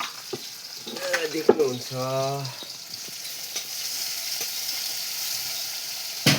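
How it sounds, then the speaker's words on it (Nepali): Spices frying and sizzling on an organic clay stove, a steady hiss throughout with a stir and a few clatters, while a voice speaks briefly near the start. "मेरो चाहिँ मरमसला पनि पस्दैछ"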